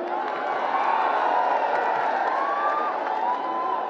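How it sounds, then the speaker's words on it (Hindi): A large crowd at a Mayawati political rally in Mainpuri cheers and shouts steadily, a dense, loud roar of voices with whoops rising over it throughout. "यहाँ की इकट्ठा हुई अपार भीड़ व भीड़ के भी जबरदस्त जोश को भी देखकर"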